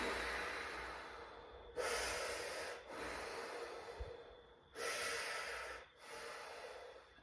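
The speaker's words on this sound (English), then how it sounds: "And 3 breaths through your mouth." Slow breaths pushed out through the mouth during a fascia stretching exercise: about four long, airy exhales, close and soft, with short pauses between them and no talking.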